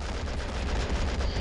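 Steady gunfire rattles across a battlefield in Men of War: Assault Squad, with Russian and Japanese troops trading shots; dense, continuous crackle with low rumbling booms, no voices.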